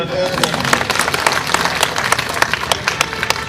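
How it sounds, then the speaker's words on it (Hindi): An audience at a spoken-word performance claps together, a dense run of sharp hand claps of steady loudness that fills the whole stretch without any voice. "समझ गए तो पीछे तक ताली बजा दो।"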